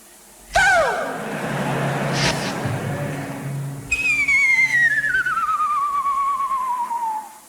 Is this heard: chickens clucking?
no